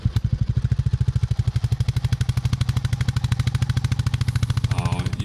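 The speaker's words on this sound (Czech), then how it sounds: "když jedu do kopce a ta rychlost nebo ty otáčky toho motoru jsou trošku nižší a trošku víc za ten plyn vezmu, tak slyším takzvaný ten thumping sound" A Royal Enfield single-cylinder motorcycle engine thumps under load while climbing uphill at low revs with extra throttle, a loud, steady, rapid pulsing beat that runs throughout, close to the listener.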